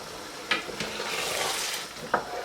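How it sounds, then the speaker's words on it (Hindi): Beaten eggs stirred into potatoes in a karahi, a soft steady sizzle under a few scraping clicks of the spoon against the pan, with no talking. "इस तरीके से आप इसको मिक्स करते रहें कि अंडा अच्छी तरह बीच में स्क्रैम्बल हो जाए"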